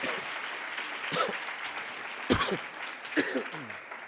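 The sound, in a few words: audience applause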